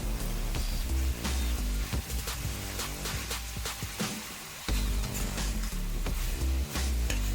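Longganisa sausage sizzles loudly and continuously in a hot pan, with frequent scraping and clacking as it is stirred, close and alone without talk.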